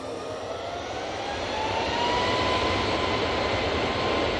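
An airliner bound for Murcia takes off from Manchester Airport, a steady broadband jet roar that swells slightly and holds loud and continuous throughout, with no voices.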